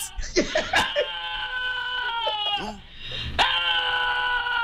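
A dog howls and wails in long, voice-like harmonic cries that rise and fall like a person yelling, loud and close, with a brief break before another drawn-out cry.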